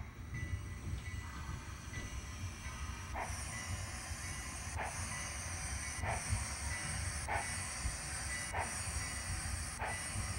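A small model steam locomotive hisses steadily while rhythmic chuffs and clicks build as it starts moving out of the depot, close by with no talking.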